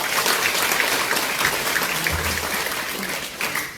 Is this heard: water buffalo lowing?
no